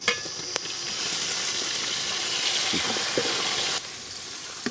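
About 400 grams of tomatoes sauté in a pan with garlic cloves and curry leaves for a tuna fish curry, a steady close sizzle with occasional stirring scrapes and no talking.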